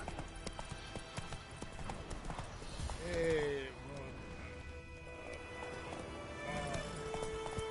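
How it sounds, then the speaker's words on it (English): A horse gallops in The Witcher video game, with quick rhythmic hoofbeats and a brief whinny amid game ambience, heard under a voice speaking. "Run, Roach"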